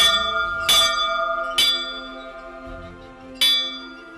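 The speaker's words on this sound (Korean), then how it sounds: "예배 시간 알리는 종인 것 같아요." A church bell rings out to call worshippers in a small Greenland village, with three clear resonant strikes spaced about a second apart, each ringing on with a long, fading metallic hum between strokes.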